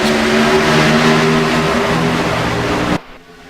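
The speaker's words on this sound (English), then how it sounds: "We are back racing here at Michigan International." Race cars roar on a restart at Michigan International Speedway, a dense, loud engine wall with rising revs sustained for about three seconds before cutting abruptly to a quieter, distant drone.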